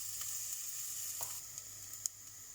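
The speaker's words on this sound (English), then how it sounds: "oil has heated up and I'll just add in the onions, and we'll let those cook for a bit" Onions sizzle in heated oil in a pan, a soft continuous crackling hiss with a few sharper pops and stirring clicks, faint and close with no talking.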